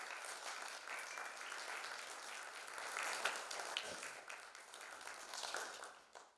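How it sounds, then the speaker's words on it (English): An audience at a film festival masterclass applauds, a sustained, fairly soft spread of clapping that swells slightly midway and then fades out at the end. "round of applause for Sarah."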